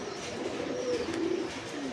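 Giribaz pigeons in a loft give soft, low cooing calls, a few overlapping coos close by over a faint background hiss.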